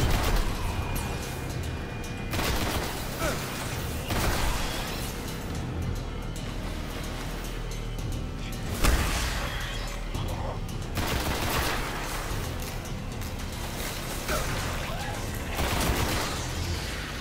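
Gunfire in the video game Destiny while shooting at a trip mine, with dense rattling bursts and sharp shots over a constant busy game din, moderately loud and sustained.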